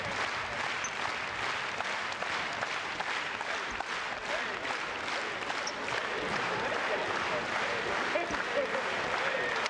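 Booster fans at a Chiba Jets fan appreciation event clap steadily in rhythm, a dense and continuous crowd of hands filling the hall for the whole stretch with no break.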